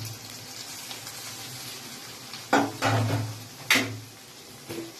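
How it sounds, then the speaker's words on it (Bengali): Chopped green chilli and tomato hitting a hot pan and frying, giving a few bursts of sizzle and stirring over a steady low hum. "এবার যে কাঁচা লঙ্কা আর টমেটোটা কুচি করা আছে সেটাও এবার এর মধ্যে দিয়ে দেব"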